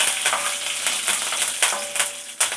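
Something lightly sautéing in a pan, a bright steady sizzle crackling throughout with a few stirring scrapes, close and fairly loud, no voices.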